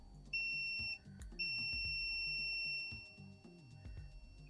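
A multimeter beeps while testing resistance during a PS5 HDMI repair, giving a short high tone, a brief gap, then a longer sustained beep lasting about a second and a half, clear and close over quiet background clatter.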